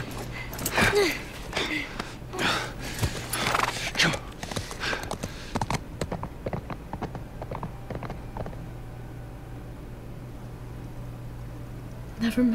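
Hoofbeats from a horse in the video game The Last of Us Part I clop in irregular bursts over the first half, fading into quiet background ambience, with a player talking over them.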